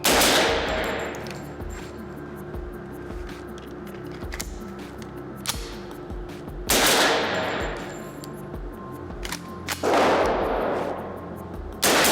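LWRC SMG-45 submachine gun, a delayed-blowback .45, firing at an outdoor range: a few loud, sharp bursts stand out against steady background noise, with quieter scattered reports between them and no talking.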